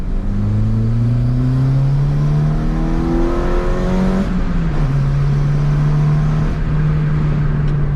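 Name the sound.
Renault Clio 2 1.6 16v car accelerating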